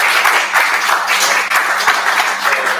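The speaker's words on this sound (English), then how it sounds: "So a big round of applause to our." A club audience applauds at a celebration event, with a dense, steady wash of hand clapping that stays at one level for a few seconds.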